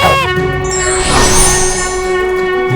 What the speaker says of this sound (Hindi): अरे हाँ, ये तो आपके ही शंख की ध्वनि है स्वामी